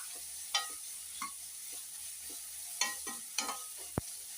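Vegetables for a ridge gourd and carrot chutney sautéing in a pan, a faint low sizzle broken by a few scattered spatula scrapes and one sharp tap.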